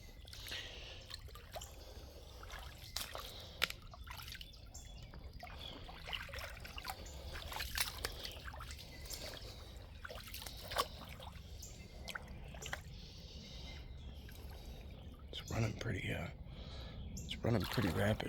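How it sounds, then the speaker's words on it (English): A small creek runs rapidly past, its steady rushing and trickling water close by and continuous, with a slight swell toward the end. "It's running pretty rapid for such a small creek."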